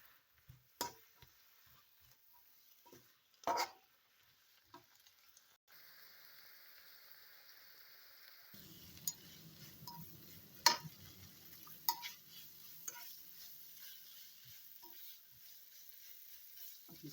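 White onions frying in a pan, heard as a quiet scattered clatter at first, then a steady soft sizzle with occasional sharp taps and stirring knocks.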